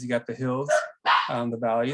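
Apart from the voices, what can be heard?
dogs barking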